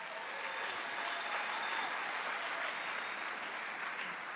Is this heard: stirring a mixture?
no